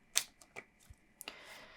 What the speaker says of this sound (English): I will go ahead and just start out with tarot cards, and I'm just shuffling right now.